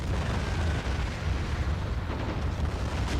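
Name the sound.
artillery fire in video game Men of War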